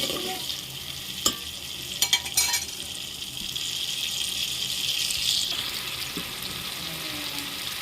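Garlic chutney is stirred into a hot tempering with asafoetida for chana dal, giving a steady sizzling hiss with a few sharp spoon clicks against the pot near the start.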